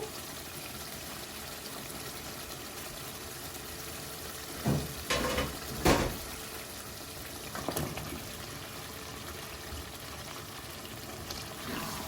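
Potato pieces frying in a home kitchen pan, a steady close sizzle with brief louder bursts of stirring partway through, no talking.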